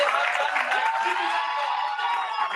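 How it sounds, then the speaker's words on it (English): Audience applause at a school valedictory ceremony, a steady wash of clapping from a crowd that carries evenly through the short stretch without letting up. "Please give them a big round of applause because they have done magnificent"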